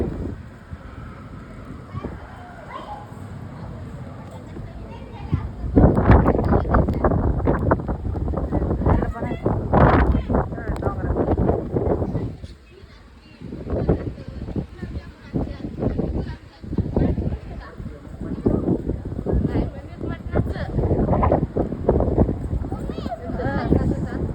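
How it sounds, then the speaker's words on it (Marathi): Gusty wind roars across the microphone in bursts during the first summer rain in a Marathi village, loud and uneven, with a voice speaking throughout. "उन्हाळ्यातला पहिला पाऊस चालू आहे पाऊस यायला आला वारा वाजून सुटले"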